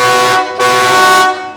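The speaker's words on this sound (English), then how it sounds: "train horns." A loud, sustained train horn blast from a big custom truck, with rich harmonic tones, dipping briefly before resuming and fading at the end.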